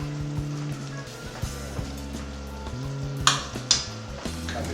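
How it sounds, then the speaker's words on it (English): Pepper steak sauce bubbling thick in a pan, with a soft sizzle and gentle popping bubbles, a few sharp clinks of a utensil against the pan, and a low humming tone beneath, close and moderately loud. "It's bubbling nice and thick."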